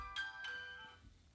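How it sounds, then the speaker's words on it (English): A phone ringtone signals an incoming call: two quick melodic chimes ring out faintly in the first half-second and fade, with no talk over them. "I'm getting a phone call."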